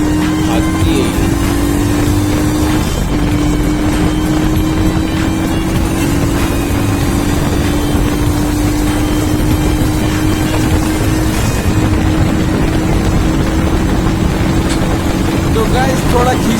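A Royal Enfield Himalayan motorcycle accelerates along an open road, its loud, steady engine and exhaust drone climbing slowly in pitch, with constant heavy wind buffeting over it.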